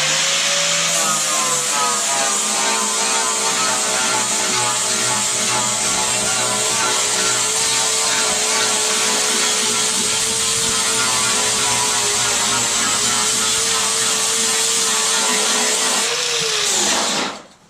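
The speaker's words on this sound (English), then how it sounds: "So I know when I grind this, there's going to be a lot of fill, and there's going to be holes" An electric grinder works body filler on a 25-year-old Neon ACR car, giving a loud, steady, high-pitched whine that runs continuously for about sixteen seconds before spinning down.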